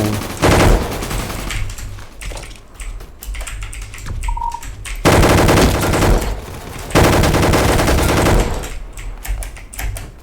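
Rapid gunfire in the Roblox game Gunfight Arena rattles in loud bursts separated by short lulls, close and dense, with no talk.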